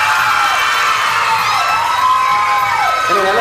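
A loud audience at a classical dance event cheers and whoops continuously, with shouting voices and a dense crowd roar filling the whole stretch.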